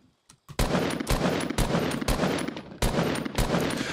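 Gunfire in the video game Fortnite, an assault rifle firing a few loud, sharp bursts that come close together and repeat in a steady rhythm, with no talk.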